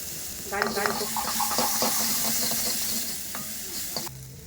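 Spices with asafoetida and tomato sizzle and crackle in a hot pan for onion rasam while a utensil stirs and scrapes through them, with a voice speaking briefly over the frying.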